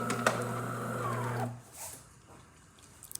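A DeLonghi espresso machine's pump drones with a steady mechanical hum for about a second and a half, then cuts off, leaving a quieter trickle and faint handling noises.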